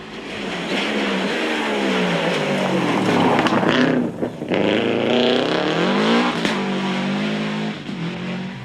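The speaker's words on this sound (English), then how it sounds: "Hugh Martin Doherty, who guides his Subaru round Emo Court and into second place." A Subaru rally car racing on a gravel and tarmac stage at Emo Court, its engine loud and near as it revs hard, dips briefly as the pitch falls, then climbs again, with no talking.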